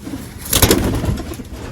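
Pigeons in a loft, including a pink-coloured female, coo in soft low repeated calls, fairly close, with steady background noise and no talk.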